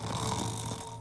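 A cartoon character's voice imitates loud snoring, a steady rasping drone held for about a second with nothing else over it.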